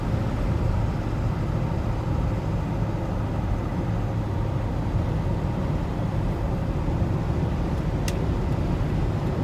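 A Ford Excursion cruises on a highway at about 60 mph, a steady low road and engine rumble heard from inside the cab with constant tyre noise and a faint brief click near the end.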